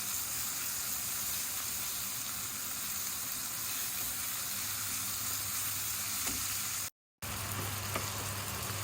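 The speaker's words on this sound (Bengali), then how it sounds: "এগুলো এমনভাবে জাল দিব যাতে টমেটো আর পেঁয়াজ সফট হয়ে যায়" Tomatoes and onions sizzle and fry steadily in a pan for chutney, a continuous close hiss with faint stirring and a brief dropout near the end.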